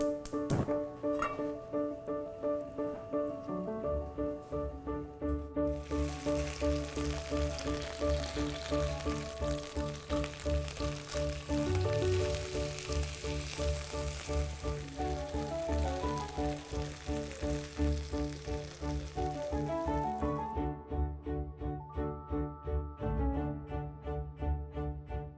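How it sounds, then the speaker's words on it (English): Cauliflower steaks sauté in a little oil, giving a steady, close sizzle and crackle that runs for most of the stretch alongside a constant tonal hum. "I'm going to saute some cauliflower steaks in a little bit of oil"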